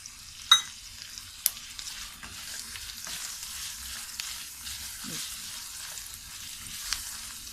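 Garlic, ginger and cashews frying in a pan over medium-low heat, a soft steady sizzle with occasional stirring clicks and scrapes of a utensil, fairly quiet and close, no talking.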